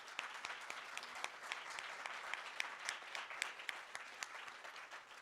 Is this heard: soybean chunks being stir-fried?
no